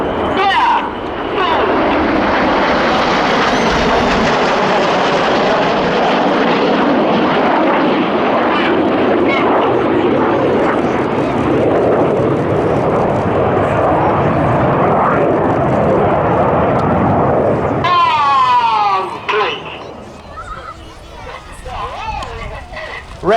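Loud, sustained jet roar from Red Arrows aircraft performing rolling formation manoeuvres at an air festival, rumbling steadily overhead before fading, with a commentator talking over it.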